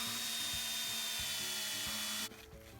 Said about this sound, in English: I'll spin the drill like a lathe and clean it up